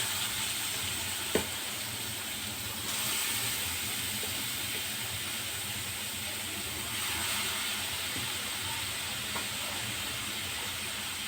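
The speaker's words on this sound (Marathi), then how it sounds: "यामध्ये भाजून घेणार आहे मी हा गाजराचा किस।" Grated carrot roasting in hot ghee for carrot halwa, a quiet, steady sizzle and hiss with one faint knock early on.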